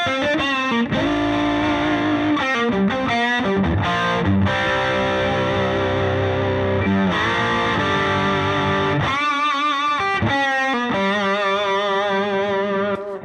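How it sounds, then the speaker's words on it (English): Distorted electric guitar playing through the lead channel of an Orange amp with the OTS engaged, a loud, sustained overdriven tone with chorus-like shimmer, bursts of chords and lead lines with brief pauses, no talking. "a lot of times my favorite setting is the lead channel with the OTS on it"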